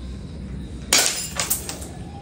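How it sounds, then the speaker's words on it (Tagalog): A glass ketchup bottle shatters when struck by a shot from a spring-powered Beretta M92 pistol: one sharp crash heard from a distance, followed by a few scattered tinkles of falling shards. "So nabasag yung bote ng ketchup"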